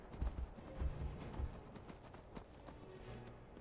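Horse hooves clip-clopping at a slow walk in the fantasy game Skyrim, a steady uneven rhythm of soft thuds close by, with no talk over them.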